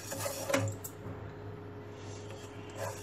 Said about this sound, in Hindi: ये देखो, अक्खा धनिया ऐसा भून के लेने का।